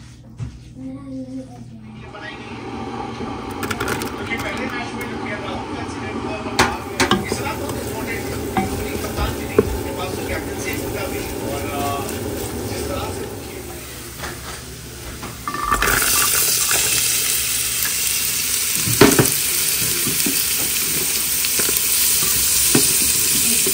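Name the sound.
frying onion and garlic, stirring in carrot and celery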